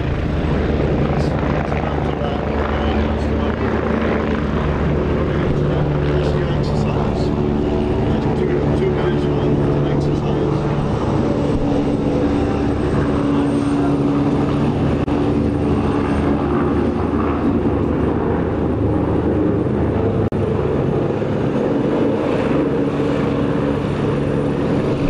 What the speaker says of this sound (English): Oh, a helicopter is so close to the ground.